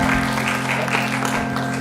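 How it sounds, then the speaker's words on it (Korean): A church congregation gives a round of applause during a Sunday service, brisk clapping from many people over a steady low electrical hum, fairly loud and continuous. "하나님께 영광의 박수 같이 올립니다"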